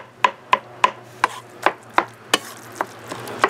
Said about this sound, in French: n'hésitez pas à hacher menu votre ail.